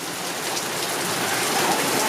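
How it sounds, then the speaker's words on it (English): Heavy rain of large raindrops pours without pause during a tornado warning, a dense, loud, steady hiss that fills the whole moment without any voices. "It's just really big raindrops."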